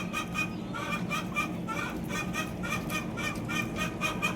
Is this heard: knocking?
no